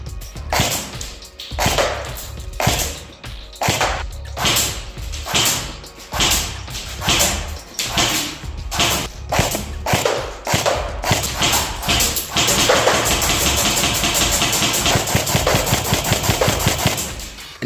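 Snow Wolf AUG airsoft gun fired on semi-automatic, a steady series of sharp close shots at a regular rhythm, with a denser burst of rapid clatter near the end.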